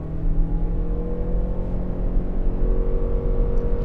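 A 2025 Lexus RX 450h+ plug-in hybrid accelerating hard, a steady loud engine drone with a rising whir heard from inside the cabin, continuous and without speech.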